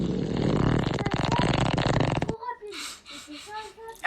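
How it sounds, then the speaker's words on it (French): A long, loud, buzzing fart, likely from a child, rumbles for about two seconds, then children's voices and giggles follow. "mais qui a pété là?"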